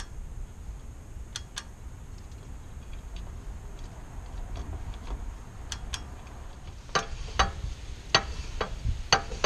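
Sparse sharp mechanical clicks of a rear drum brake adjuster gear on a 2007 Toyota, a few early then a quicker cluster toward the end, over a low steady background hum; no talking.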